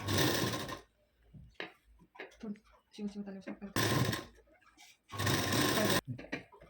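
A sewing machine stitches the katori seam of a lined double-katori blouse in three loud, fast bursts, with someone speaking in the pauses between runs.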